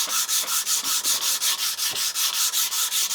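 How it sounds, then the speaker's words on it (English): Sandpaper rubbed over pine wood in quick, even back-and-forth strokes, a loud close rhythmic rasp of about five passes per second with no talking. "what I like to do is come back in with a piece of sandpaper"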